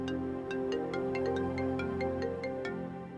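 A phone ringtone plays alone, a bright repeating electronic melody of short chiming notes at a steady rhythm, moderately quiet indoors in a domestic TV drama scene.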